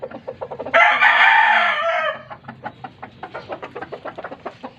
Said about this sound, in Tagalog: Ito naman aking isang nakasalang Kanawayan hen, white chocolate, 4 times winner